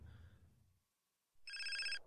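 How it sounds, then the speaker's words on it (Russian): A telephone rings in the video game GTA San Andreas, with a loud, bright electronic ringtone trilling steadily near the end. Game voices and ambient sound come before it. "Звон телефона!"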